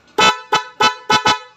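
A loud Honda Beat motorcycle horn blares in four short honks, the last a quick double blast, close and harsh.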